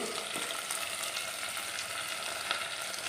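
Sardines sizzle steadily in a cooker, a close, continuous frying hiss with faint stirring and no voices.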